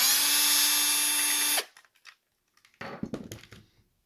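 A power drill backs screws out of a clear holster for a Taurus G3C pistol: one loud, steady high whine for about a second and a half, then it stops, followed by small plastic clicks and rattles.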